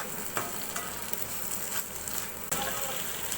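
Thick-cut onions for a Bengali bharta sizzle steadily in a pan, a close continuous hiss with occasional soft stirring scrapes.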